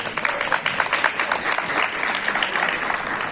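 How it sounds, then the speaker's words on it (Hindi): An audience at a school welcome and farewell party for a principal and teacher claps steadily, a moderate burst of many hands applauding indoors with no speech over it. "तालियां थोड़ी बजा दिया करो"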